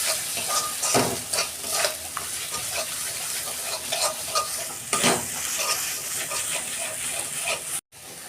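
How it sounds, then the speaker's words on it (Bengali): Spice paste with Kashmiri chili powder and ground dried chili sautéing in a pan for a sea crab curry, a steady close sizzle broken by repeated scraping stirs, with no one talking. "এই যে মশলা কষানো হয়ে গেছে"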